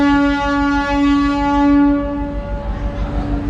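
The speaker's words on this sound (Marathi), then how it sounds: "तर ट्रेन निघते आता आपली प्लॅटफॉर्मवरून" A loud, steady train horn sounds for about two seconds, then fades into the rumble of the Ahmednagar to New Ashti train starting to move from the platform.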